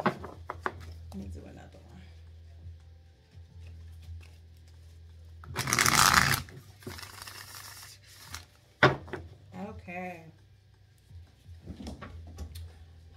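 Tarot cards get shuffled by hand in a quiet room, one loud riffling burst in the middle, with softer card handling and rustles before and after.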